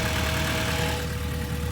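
A Honda Civic engine idles roughly, a steady close-up drone with a faint uneven pulsing throb and a thin constant whine, no one talking.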